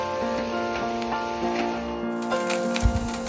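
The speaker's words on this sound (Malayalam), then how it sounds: "ഇനി പതുക്കെ നമുക്ക് വഴറ്റി കൊടുക്കാം" Sliced onions sizzle while being sautéed in a pan for a cauliflower dish, a steady close crackle with brief clatters as they are stirred.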